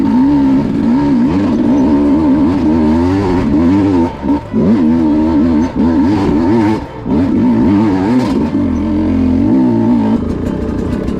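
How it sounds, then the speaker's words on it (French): A motorcycle engine labours up a steep climb on a training ride, its pitch rising and falling with loud, close throttle changes and brief dips as the rider shifts or eases off. "Dès les premières minutes de moto, j'ai déjà une grimpette."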